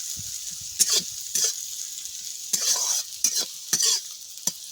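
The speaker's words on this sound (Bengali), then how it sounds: "আর একটু লাল করে ভালো করে ভাজবো ধীরে ধীরে" Neem flowers frying slowly in a pan, a constant faint hiss broken by several brisk bursts of spatula scraping and stirring, close and fairly loud, no voices.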